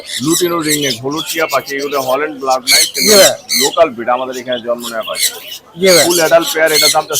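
Caged pet birds at a large bird market in Mirpur, Dhaka, squawking loudly and repeatedly in harsh overlapping bursts, close by, with busy market chatter blending in.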